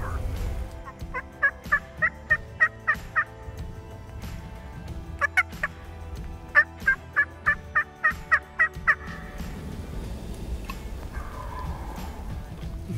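A wild turkey gobbles repeatedly at some distance during spring hunting in Iowa, in several rapid rattling bursts separated by quieter gaps of outdoor ambience.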